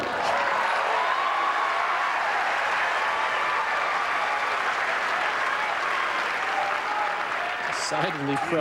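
Tennis crowd at the 2003 Masters round robin in Houston applauding during Agassi versus Federer, a steady sustained clapping that fills the whole stretch, with a commentator's voice briefly audible near the end.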